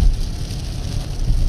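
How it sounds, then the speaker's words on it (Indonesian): Steady rain falling outdoors near a new toll road in the Cermai area, a dense, even hiss of drops with a low rumble underneath, continuous and fairly loud with no voices. "di Cermai juga hujan ini guys"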